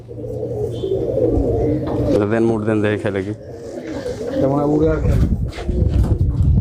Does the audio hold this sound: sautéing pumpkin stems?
no